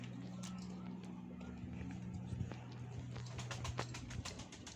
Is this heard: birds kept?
yes